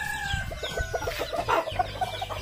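Chickens cluck in a steady, uneven stream while a rooster crows nearby, all fairly close and loud with no talking.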